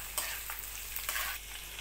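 Cashews and grated coconut roast together in a pan for sweet chakkarai pongal, with a soft, low-level sizzle and a few short scraping stirs spread over a couple of seconds.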